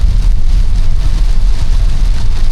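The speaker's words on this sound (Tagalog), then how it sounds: "Walang tigil lang ano, ulan talaga." Heavy, unbroken typhoon rain pounds down across flooded rice fields in Occidental Mindoro, a loud, dense roar with a deep rumbling low end that holds steady throughout, no voices.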